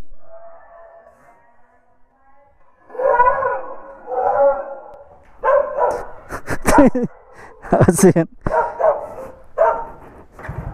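A dog barks in a rapid series of sharp, close barks, with a few short spoken words in between and a quiet start.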